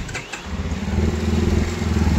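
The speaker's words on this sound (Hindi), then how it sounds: "बड़े भैया कर रहे हैं बाइक को स्टार्ट।" A UM Commando Classic motorcycle, freshly fitted with a new timing chain adjuster, fires up after a brief crank and settles into a loud, close, steady thumping idle.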